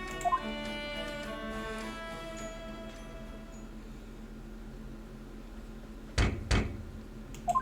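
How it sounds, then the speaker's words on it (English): Knocks on a door in the Great Ace Attorney Chronicles video game, two short clusters of sharp raps near the end after a quiet stretch with soft tonal music, no voices. "Knock knock."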